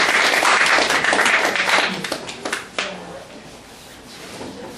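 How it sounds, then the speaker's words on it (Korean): Applause from an audience at a talk concert starts strong, then thins into scattered individual claps that fade out, leaving quiet room ambience. "박수 한번 주시죠"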